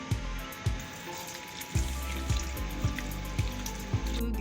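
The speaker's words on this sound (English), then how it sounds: "So wash my hand very well as well." Water running and splashing in a small airplane lavatory sink during handwashing, a continuous close trickle broken by repeated splashes and drips.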